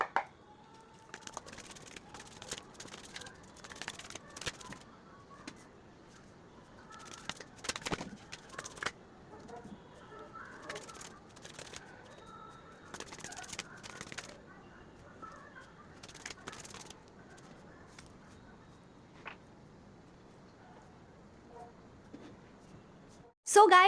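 Tarot cards are shuffled in quick bursts of crisp riffles and slaps, separated by pauses, at close range and fairly faint.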